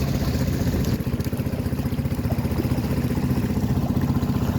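A boat's marine engine idles steadily at a shipyard, a dense low rumble with even throbbing pulses running throughout and no voices.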